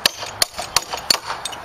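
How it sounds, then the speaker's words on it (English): A small hammer taps a hex bolt into a wooden osprey platform pole, about five sharp, evenly spaced metallic knocks in quick succession, close and clear with no talking. "Some little hammer might help here"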